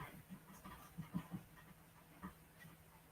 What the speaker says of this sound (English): I don't know what that dog is doing.